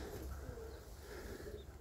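White Baku pigeons cooing in a dovecote, a soft, low, continuous burble of several birds close by with no talking.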